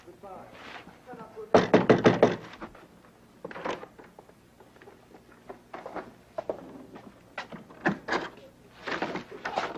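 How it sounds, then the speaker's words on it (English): Knocking on a door in a 1970s stage drama, heard as several short bursts of raps scattered among quiet gaps, fairly close, with other faint room sounds between them. "I will knock."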